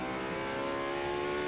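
A Ferrari race car accelerating hard at the Bathurst 12 Hour, its engine a loud, sustained, close-up roar that holds steady through the whole moment.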